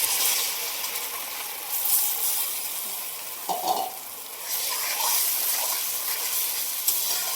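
Tomato paste sizzles and fries in a hot pan after ginger-garlic paste, for masala matar paneer, with a steady crackling hiss throughout and occasional stirring scrapes, with no voices.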